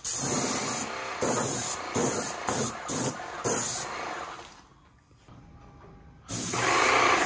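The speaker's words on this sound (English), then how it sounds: "you spray it all over all the metal parts" A paint sprayer blasts loud, hissing bursts as it coats a vehicle's metal underside with Fluid Film undercoating. Several short sprays come in a choppy rhythm, then a quiet pause, then another long burst.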